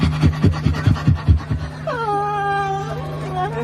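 A man imitates a dog with his voice, giving a quick run of rhythmic, breathy panting bursts that turn into drawn-out, whimpering tones. Apart from the imitation, no words are spoken.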